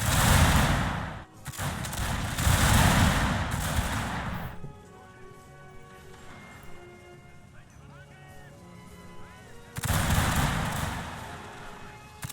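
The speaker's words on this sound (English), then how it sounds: "our men are just opening fire on the enemy" Infantry musket volleys crackle in Shogun 2: Fall of the Samurai, with dense bursts of gunfire at the start and again near the end, separated by a quieter stretch of distant battle ambience and faint shouts.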